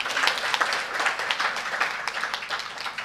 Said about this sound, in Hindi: आप लोगों के लिए एक बार तालियां बजा दीजिए।